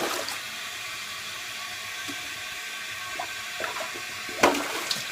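Water in a clogged toilet drains down after plunging, a faint continuous hiss and trickle with a brief gurgling splash near the end, quiet and close with no talking.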